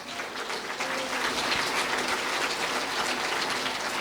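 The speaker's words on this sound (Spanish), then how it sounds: "Fuerte aplausos, Iglesia de Cristo Jesús." Loud, dense applause from a church congregation, steady and continuous throughout like heavy rain, with no talking over it.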